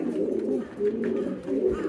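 A frightened Damaching pigeon that has retreated to a corner coos: a soft, low, throaty call repeated steadily, close and fairly quiet.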